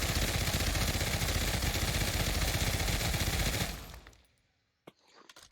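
A 5.56mm light machine gun in the game Pavlov fires a long, loud sustained burst of rapid shots that cuts off abruptly, followed by near silence and a couple of faint mechanical clicks.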